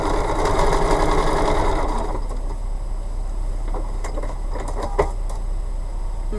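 A sewing machine runs steadily as it stitches fabric along a marked line for a bumble bee quilt block, loud and continuous at first, then quieter with scattered clicks and taps.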